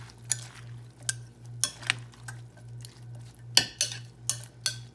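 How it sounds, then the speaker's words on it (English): A spoon works through a bowl of fresh pico de gallo salsa, producing close, regular scraping clinks roughly twice per second over a low steady hum, with no voices. "And give it a stir."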